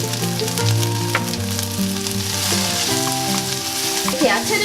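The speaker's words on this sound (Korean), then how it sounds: "아까 준비해놓은 고추랑 파 그리고 마늘을 같이 넣고 좀 볶겠습니다" Onion, chili, green onion and garlic sizzle loudly in a pan for soft tofu stew, with a steady crackle throughout and scattered scrapes as the vegetables are stirred.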